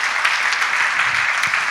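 Congregation applause in a church service, a steady dense wash of clapping that fills the short stretch at a constant level with no voices over it.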